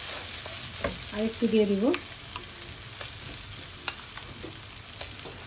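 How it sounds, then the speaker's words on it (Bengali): Coconut paste fries and sizzles in a pan while being stirred for a prawn dish, a steady close hiss with scraping strokes and a brief spoken remark near the start. "এই ভাজা ভাজা করলে খুব সুন্দর একটা ফ্লেভার তৈরি হবে।"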